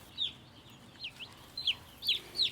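Baby chicks raised for meat cheep in a four-level brooder, with a run of short, high, repeated peeps at an uneven rhythm over a low hum.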